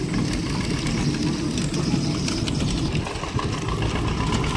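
Engine-driven sugarcane crusher on a natural farm making jaggery, pressing cane as juice flows out, gives a steady, continuous mid-low mechanical drone close by that holds at an even level throughout.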